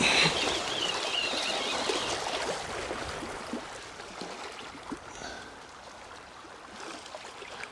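Water sloshes and laps steadily around a fishing boat off Bokn, Norway, a broad continuous wash of sea waves close by with no talk.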